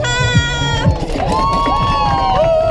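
An audience at a funk dance event cheers and applauds to welcome a performer to the stage, with a loud, dense roar of shouts and clapping throughout and a few higher whoops riding on top.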